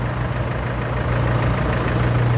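A mini loader's turbocharged four-cylinder engine idles steadily with a low, even rumble, close by and constant, with no voices.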